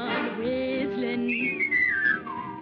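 Someone whistles a melodic phrase with sliding pitch, clear and close, over a soft musical background.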